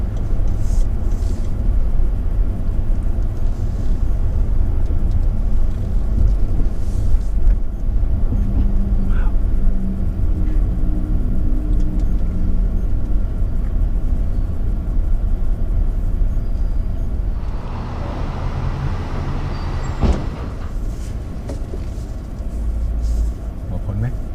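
A Rolls-Royce car on the move, a low steady road rumble and engine hum from inside the cabin, with a voice speaking over it and a brief shift in tone near the end.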